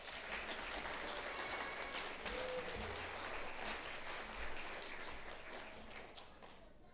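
Sustained audience applause fills an awards night for a children's church club, steady dense clapping from start to finish with no voices over it.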